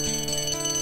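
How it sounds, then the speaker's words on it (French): Small bell chime in a Code Lyoko visual novel video game, a bright sustained ringing tone with steady overtones, clean and close, heard alone. "la petite cloche"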